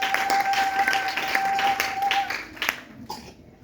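A church congregation claps together, a dense burst of applause with a held tone underneath, thinning out and fading after about three seconds.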